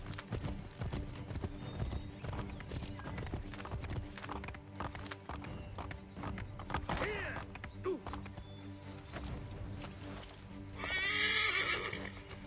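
Clip-clopping hooves and a loud whinny from a horse in Assassin's Creed III, set against busy game music and ambience, with the neigh rising clearly near the end.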